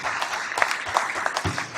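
An audience at a Howard University talk on equality claps, a moderate, even patter of applause lasting a couple of seconds.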